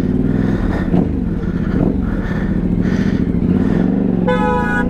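A car horn honks in Sofia city traffic, a short, loud, bright blast near the end over a steady idling engine and road rumble inside the vehicle.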